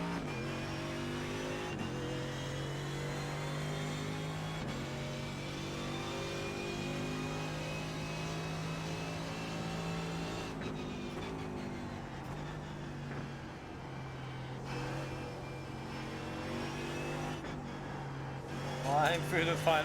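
A race car engine in the iRacing sim roars steadily, shifting pitch through gear changes and corners, a continuous moderate drone with a person talking over it throughout.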